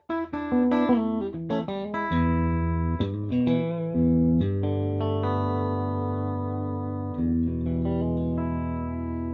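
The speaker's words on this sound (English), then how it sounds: "why don't you show us your clean tone" Clean electric guitar tone through a pedalboard, picked notes and sustained chords, bright and undistorted, continuous with no talking.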